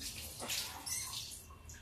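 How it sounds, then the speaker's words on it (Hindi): Hands being washed under running tap water while cooking, a soft, steady splash and trickle heard close and faint without talking. "थोड़ा हाथ धो ले नहीं तो फिर टक टक टक टक करेगा।"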